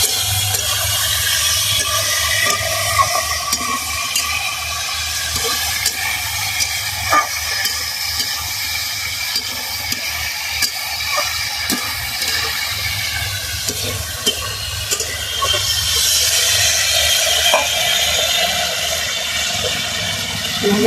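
Silver carp pieces frying in hot oil give off a loud, continuous sizzle and crackle, close up, with occasional stirring clicks and no talking.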